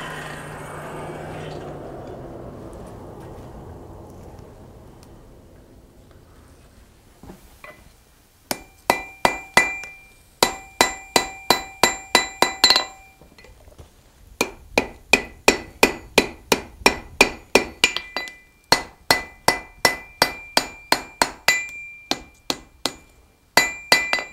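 A blacksmith's hammer strikes red-hot steel pieces at a forge to weld them, after a fading low rumble, in quick rhythmic bursts of sharp ringing metallic blows with brief pauses between runs, loud and close.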